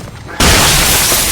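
A single loud shotgun blast in Shadow Warrior 2, a sudden close boom that fills the sound and then holds as a sustained roar.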